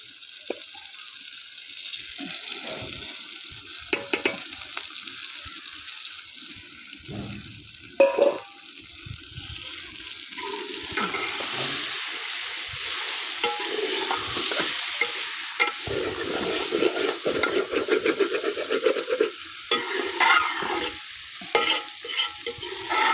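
Okra tossed into a pot of frying onions sizzles under repeated stirring, with scraping strokes and splashy bursts that rise and fall; the frying grows busier and louder toward the end.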